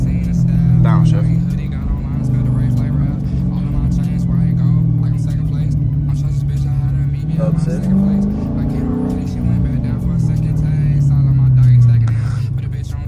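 Dodge Challenger engine rising and falling in pitch as it is downshifted with paddle shifters while braking, a steady loud drone throughout with rev blips, heard from inside the car.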